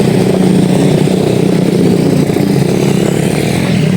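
A loud motorcycle engine roars steadily close by as it passes, its rough buzzing drone holding for a few seconds without talk.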